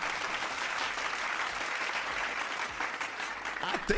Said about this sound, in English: Clap it up for Stilo.